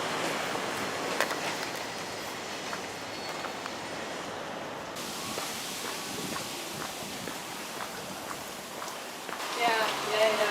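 Steady rain falls in Amsterdam, a dense, even hiss of drops on surfaces that runs the whole time, with a brief louder spatter near the end and no talk over it.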